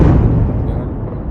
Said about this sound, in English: You can see here the big smoke and the explosions coming out of the building.